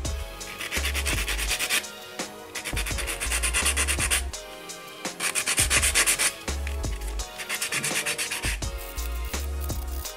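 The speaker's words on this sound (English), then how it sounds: "I'm gonna just go through and buff the surface of the nail" Acrylic nail tips being buffed across their surface, a steady rasping rub in repeated strokes with short pauses between passes, close and fairly loud with no talking.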